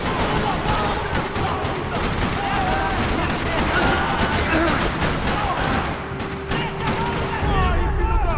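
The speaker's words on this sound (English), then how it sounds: "Another parking lot rattling with gunfire." Rapid bursts of gunfire crackle nonstop in a parking lot in Max Payne 3, dense and loud, with voices and other game sounds woven underneath.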